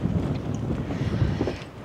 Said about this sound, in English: my goodness, it's so windy.